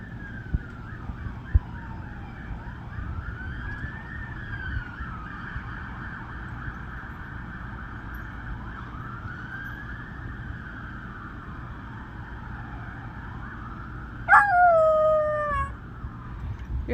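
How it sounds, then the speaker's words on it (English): A dog, a young pet puppy, howls along with a passing emergency vehicle siren whose wailing rises and falls steadily, with a short louder burst of howling near the end. "You're howling at those sirens?"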